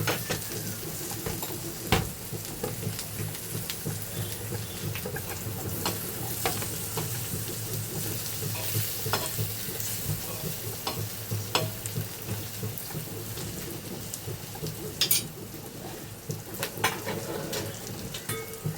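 Tomatoes and spicy masala frying on a hot griddle for an Agri-style home recipe, a steady close sizzle with occasional stirring scrapes and faint clinks, continuous and fairly quiet.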